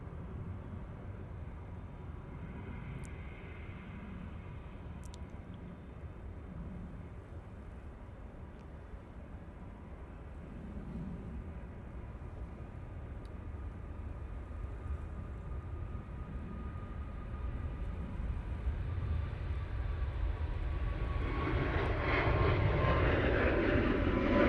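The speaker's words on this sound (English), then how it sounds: "On the roll next, we have the RyanAir going off to Alicante." A Ryanair Boeing 737 MAX 8 starts its takeoff roll at Manchester Airport bound for Alicante, its engine roar building steadily from a distant rumble to a loud, broad thunder near the end, with no talk.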